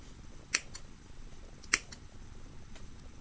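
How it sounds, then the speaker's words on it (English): Scissors make a couple of cuts into a paper plant pot: two sharp, close snips about a second apart, each with a faint follow-up click, in a quiet room. "I'm going to get the old scissors out. I'm going to make a couple of cuts into the paper pot."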